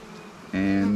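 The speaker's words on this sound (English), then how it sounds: "These are native, basically feral honeybees." Native feral honeybees buzz at their hives, a faint hum that swells abruptly halfway through into a loud, steady close-up drone.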